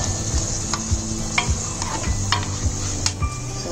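Raisins and poppy seeds frying in ghee in a pan, a soft steady sizzle under repeated scraping strokes of a stirring spoon, about one stroke every half second, close up.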